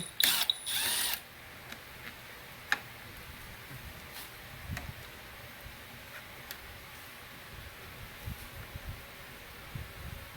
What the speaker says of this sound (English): we're just going to remove this little 3mm Allen screw here